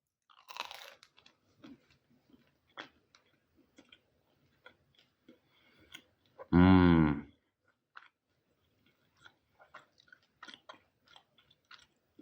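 Close chewing of crunchy fried food that is crisp outside and soft inside, with scattered sharp crunches and soft bites and one brief loud burst midway, in an otherwise quiet room.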